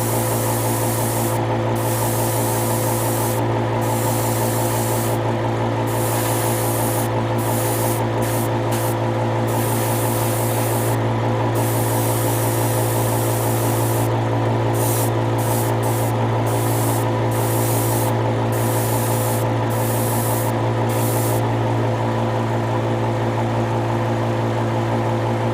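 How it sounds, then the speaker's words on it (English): Spray painting a Gundam RX-78-02 model foot part red: a steady, loud, continuous hiss close by, with a low constant hum underneath and brief interruptions. "I'm going to paint everything red"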